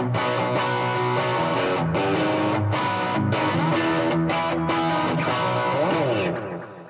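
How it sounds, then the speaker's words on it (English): Electric guitar with stacked overdrive pedals cascading into a BB Preamp, producing a thick, saturated lead tone; sustained distorted notes and chords play steadily for several seconds, ending with a held ringing chord, no talking. "it takes away some of that clean and gives me kind of a cascading overdrive"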